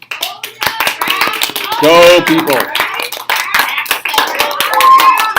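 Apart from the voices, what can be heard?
classroom round of applause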